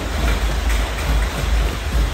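Heavy rain pouring steadily outside a rural Vietnamese family home, a dense, continuous hiss with a strong low rumble running unbroken from start to finish, with no voices.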